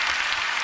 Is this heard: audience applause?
yes